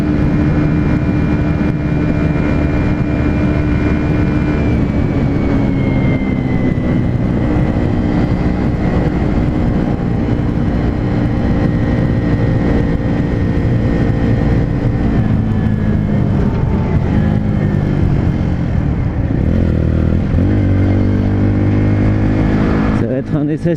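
A Bullit Hero 125 motorcycle accelerates on a motorway, its engine droning loud and steady with rising and shifting pitch under wind rush, with a voice talking over it.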